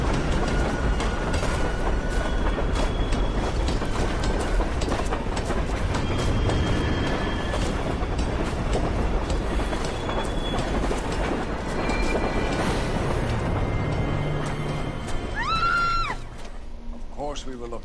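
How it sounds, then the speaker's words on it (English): Train yard ambience with rail cars in the LA Noire video game, a continuous dense rumble of rolling stock with metallic squeals and clatter, steady and fairly loud throughout, thinning slightly near the end. "Why the fuck is she in a train yard?"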